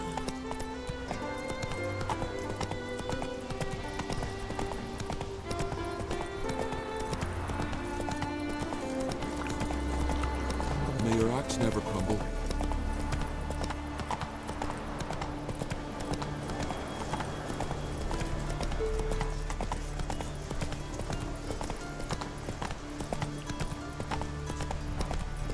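Roach, the horse in Witcher 3, gallops with a fast run of hoofbeats over a music bed, and a whinny rises partway through; the sounds are moderately loud, and no voices are heard.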